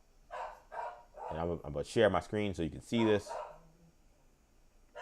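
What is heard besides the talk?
dog barking in the background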